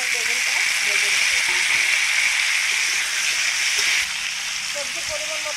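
Potatoes and eggplant frying in a pan make a loud, steady hiss, close by. The sizzle drops slightly in level near the end.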